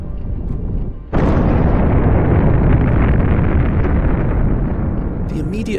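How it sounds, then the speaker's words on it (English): A Big Bang explosion sound effect erupts suddenly into a loud, dense roaring boom that sustains as a heavy rumble, after a brief lower rumble beforehand. "When the Big Bang explosion occurred"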